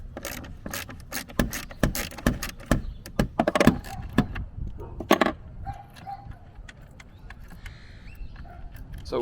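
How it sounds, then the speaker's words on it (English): A socket wrench loosens a terminal on a camper's lithium battery, with rapid ratcheting clicks and metallic clatter in close bursts followed by quieter handling sounds. "So we just need to get our socket set, and we'll unscrew that."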